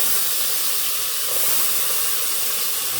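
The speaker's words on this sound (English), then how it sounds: "Prepare for the sizzle!" Steady broadband hiss and crackle of leeks sizzling in a hot pan, continuous and fairly loud throughout.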